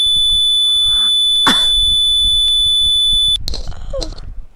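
A high, steady electronic alarm tone sounds continuously inside a Marcopolo Torino bus in the driving simulator Omsi 2, with clicks and brief squeaky bursts from the cab controls over it.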